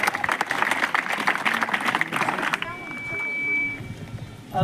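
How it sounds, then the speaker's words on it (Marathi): Loud, dense applause from an audience at a poetry recital for young poets, continuous clapping for about two and a half seconds before fading into a quieter hall with a brief tone. "जोरदार टाळ्या."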